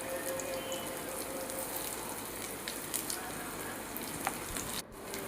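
Green chillies and curry leaves sautéing in a pan for fish curry give off a steady, even sizzle and crackle that carries on throughout with no talk.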